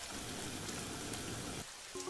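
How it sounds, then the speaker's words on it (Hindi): Dense, steady rain hissing down on surfaces, continuous and fairly close, dropping briefly near the end. "बाहर काफी तेज बारिश हो रही होती है"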